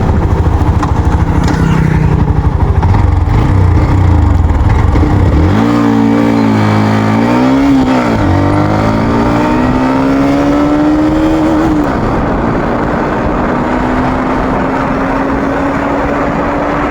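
A Hero Xtreme 125R, a five-speed 125 cc motorcycle, accelerates hard in a 0 to 100 test. The loud, close engine note climbs in pitch, dips at gear shifts, then settles into a long rising drone.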